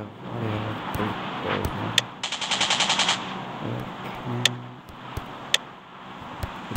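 Automatic assault rifle fire, an AR-15 or M4A1 in the shooter game Rules of Survival, comes as one fast burst of rapid shots in the middle, with scattered single loud cracks before and after over a low engine rumble.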